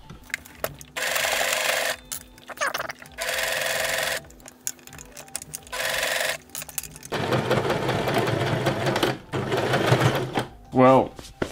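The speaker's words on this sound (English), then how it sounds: "now I need to sew the two halves of the scarf together" A sewing machine stitches two halves of a fleece hoodie scarf together in repeated bursts of rapid whirring, each lasting a second or two with pauses between, followed by a longer run with some handling noise.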